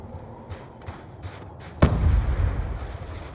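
Black Ops 2 gameplay with a few soft pops, then one sharp loud blast followed by a rumbling boom that lingers, close and heavy with no talking over it.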